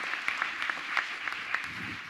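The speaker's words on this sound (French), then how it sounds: "Applaudissements." Audience applause at an innovation trophy pitch event, scattered claps over a steady crowd wash, moderately loud and continuous with no talk.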